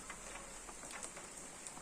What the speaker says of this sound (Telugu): మాకు వర్షం పడుతుంది. ఇందాక నుంచే స్టార్ట్ అయింది.